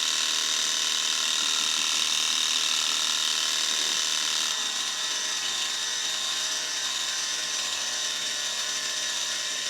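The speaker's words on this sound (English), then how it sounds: "It just proves the Worx Hydroshot can also work with the turbo end." A Worx Hydroshot pressure washer fitted with a turbo nozzle blasts weeds in a loud, steady, rattling whir with a hissing spray. It runs continuously and close, with no voices.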